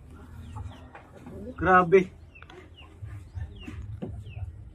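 Free-range Brahma chickens about eight months old cluck on a farm, with a louder burst of fowl calls in the middle and softer clucking around it, under casual talk from people nearby.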